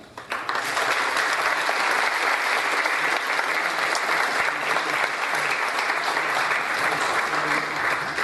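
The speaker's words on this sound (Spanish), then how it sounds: "Joaquín Díaz Canedo y Carlos Landero, para quien también pido un aplauso." Audience applause at a literary panel event, sustained, full clapping from a large crowd that starts abruptly and holds steady for several seconds, with faint voices beneath.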